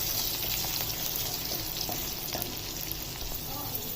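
Chopped onions frying in a pan with green chillies, a constant close crackling sizzle with occasional stirring scrapes, steady and fairly loud.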